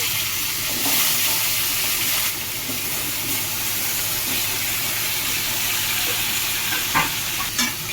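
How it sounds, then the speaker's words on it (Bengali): Arum root sizzles continuously in hot oil after nigella seed tempering, close and loud, with occasional clinks and scrapes of stirring. "মুখি কচুটা একটু ভাজা হবে।"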